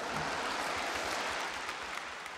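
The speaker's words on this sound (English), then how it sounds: "It's not the time to clap now." A faint, far-off wash of clapping from an audience holds steady throughout, with no talk over it.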